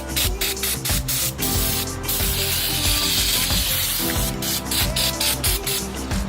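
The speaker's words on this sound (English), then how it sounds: "you just want to spray it down with some brake parts cleaner" Brake parts cleaner hisses from an aerosol can onto a clutch pressure plate during a Subaru engine install. The loud, steady spray runs in repeated bursts with brief pauses between them.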